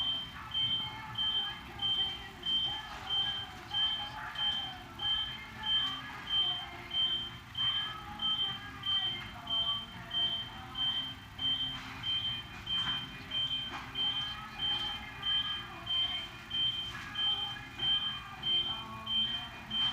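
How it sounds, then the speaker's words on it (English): Steady high-pitched beeping repeats in a fast, even rhythm for the whole stretch, loud and insistent over a low rumbling background, along a road in Forks, Washington. "The beeping is brutal."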